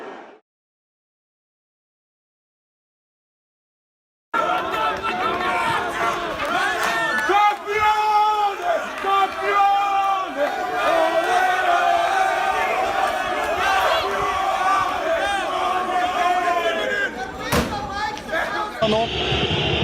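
Football fans in a packed stadium boo and shout at an opposing player, a loud, continuous roar of crowd noise with a commentator talking over it throughout.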